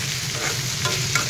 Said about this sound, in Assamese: এইখিনি এতিয়া অলপ টাইম মই নিজেৰে ভাজি ৰাখিম